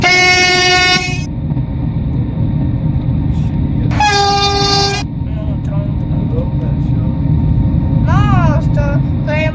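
A Koleje Mazowieckie double-deck train rumbles loudly and close, with two long horn blasts, the first at the start and the second midway, over a steady low roar, and fainter tonal chirps near the end.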